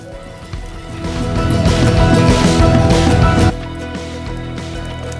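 Strips of bacon fry in a hot pan with a loud, dense crackling sizzle like heavy rain, swelling briefly and then easing to a softer spatter after being moved around.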